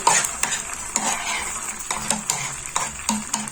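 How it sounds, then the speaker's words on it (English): Scrambled eggs stirred in a frying pan, with a steady sizzle under repeated scraping and clinking of a utensil against the pan, close and without talk. "So for scrambled eggs, we just keep now just stirring"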